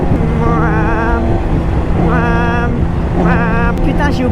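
A newly bought motorcycle runs loud and raw with its exhaust baffle removed, idling with a harsh rumble and rising into three revving surges that fall back each time, close to the microphone, while someone speaks over it.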